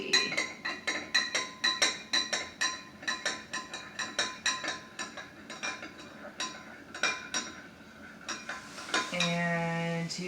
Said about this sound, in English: I stir it around, make sure it's very salty